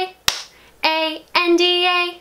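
A single sharp hand clap lands near the start, followed by a child-style sung melody in short sustained phrases, as hands clap along to a song about a panda.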